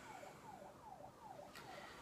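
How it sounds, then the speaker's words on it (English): Faint wailing siren of an ambulance or fire truck outside, rising and falling in quick repeated sweeps, distant under low background noise. "I think it's an ambulance going off or maybe a fire truck."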